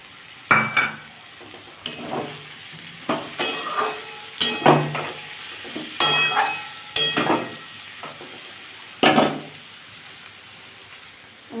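Chopped green chilies hit hot oil in a pan as the fish-head gourd greens dish cooks, sizzling steadily. A spoon clatters against the metal in repeated sharp scrapes and knocks, close and distinct, with no talking.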